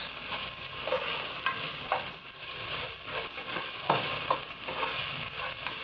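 Chopped onion and ginger fry in a hot pan, giving a steady, close sizzle with recurring scrapes and soft knocks as a utensil stirs them around.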